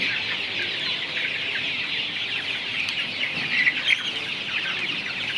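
Laying hens cluck and chatter continuously at close range in a poultry pen, a steady mix of overlapping fowl calls with occasional louder squawks and no talk.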